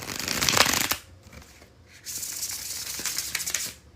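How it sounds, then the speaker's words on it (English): A deck of cards is bridge shuffled, and the riffle gives two crisp, rapid fluttering bursts close to the listener, separated by a short quiet pause, with no talking. "When I do the bridge shuffle, as I'm about to do"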